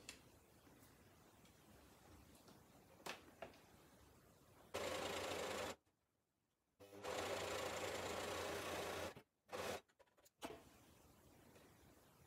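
A sewing machine stitches along the top edge of fabric-scrap flags to join them, running in loud, steady bursts of whirring with short pauses and quick stop-start runs near the end.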